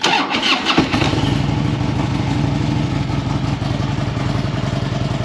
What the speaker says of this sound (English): Turn the ignition on, wait for the check engine light to go out, hit the start button.